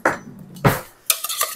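Zucchini salad tossed in a bowl, a few short scraping and clinking strokes of a utensil against the dish, close and separated by brief pauses.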